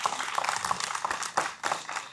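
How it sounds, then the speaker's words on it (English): Scattered clapping from an audience at a school STEM academy launch event, a dense patter of hands with a few louder bursts, moderately distant and fairly soft, with no talking over it. "a good round of applause right there"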